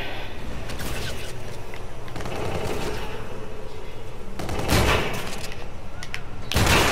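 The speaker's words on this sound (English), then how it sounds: "time to switch to the old shotgun" Gunfire in the video game Call of Duty: Infinite Warfare, with several sharp loud blasts from a shotgun and other weapons over a continuous game soundscape, with a player's voice briefly in the mix.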